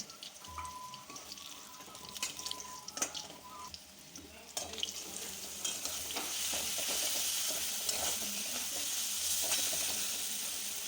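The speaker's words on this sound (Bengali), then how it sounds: "এবার আমরা পেঁয়াজে একটা টমেটো দিয়ে ভালো করে টমেটোটা নাড়াচাড়া করব যতক্ষণ না টমেটোটা সেদ্ধ হচ্ছে ততক্ষণ" Tomato and onions frying together for a spicy crab curry, close stirring scrapes and clinks at first, then a loud, rising bright sizzle that settles into a steady hiss.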